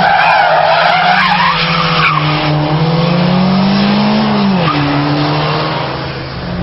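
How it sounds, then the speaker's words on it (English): Loud close tire squeal from a car drifting through a handbrake turn, a long sustained screech whose pitch slides and bends before it fades out at the end. "The handbrake turn to go backwards, and then follow that with a reverse flip."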